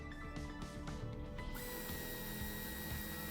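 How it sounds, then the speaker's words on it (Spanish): A power drill drives a self-tapping screw into the body of a 2016-2024 Ford Transit van, a steady whirring motor with a shift in pitch partway through, close and continuous, with no speech. "Usaremos el tornillo autorroscante"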